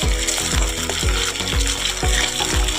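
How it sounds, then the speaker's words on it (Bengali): Fish heads frying in a pan, with a repeated rhythmic scraping and knocking as they are broken up and turned. A steady sizzling hiss runs underneath. "মাছের মাথাগুলো ভালো করে দেখো ভেঙে ভালো করে ভেজে নিচ্ছি"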